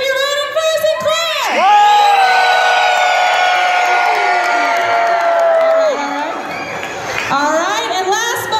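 A crowd at a dad dance-off results announcement cheers, whoops and screams loudly for nearly the whole span, a sustained roar with high shrieks that swells early and tails off near the end.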